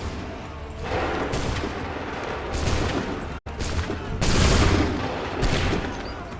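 Musket volleys ring out in the game Assassin's Creed III, with several loud, crackling fusillades of gunfire arriving in bursts and echoing close by.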